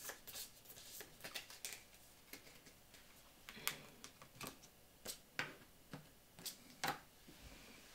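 Playing cards shuffled by hand during a Mythic Battles: Ragnarok board game, a quiet run of crisp riffling ticks and taps, some close together and some spaced apart, with no talk over them.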